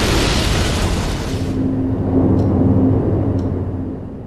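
A massive oil tanker explosion from a sci-fi thriller film roars as a loud, broad blast that fades into a deep, sustained rumble with a couple of faint sharp crackles near the end.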